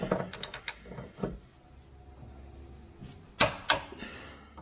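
A torque wrench tightening a bolt to 74 foot-pounds during a BMR rear cradle lockout install on a 6th Gen car: a quick series of close mechanical clicks, a pause with low background noise, then two more sharp clicks, with no talk.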